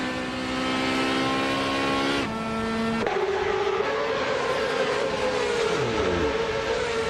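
A Ferrari F355 Challenge race car engine screams at high revs in a racing video game, holding steady tones through upshifts. A sharp gear change comes midway, followed by a sustained drone that falls and rises as the car accelerates.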